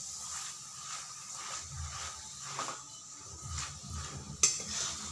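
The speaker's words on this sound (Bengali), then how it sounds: "তেল দিয়ে এভাবে ঘুরিয়ে ঘুরিয়ে ভাজতে হবে, তাহলে সব দিকেই ভাজা হবে।" A ginger-garlic paratha fries in oil on a pan, giving a soft, low sizzle under repeated scraping and stirring strokes of a spatula, with one sharp clack of metal near the end.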